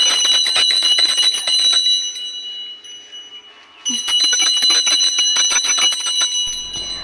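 Two hand bells rung together during Rath Yatra ring in rapid, bright metallic strokes, pause briefly with quieter background, then resume their fast clanging close by.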